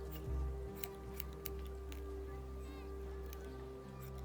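Scissors snipping in The Walking Dead: A New Frontier video game, a short crisp cut near the start over a steady low hum, the rest quiet with faint ticks.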